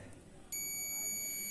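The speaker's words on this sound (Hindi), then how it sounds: "हम मल्टीमीटर को बजर रेंज में कैसे चेक कर सकते हैं" A multimeter set to its buzzer continuity (diode) range sounds a steady, continuous electronic beep that starts partway through and holds at an even level over faint room noise.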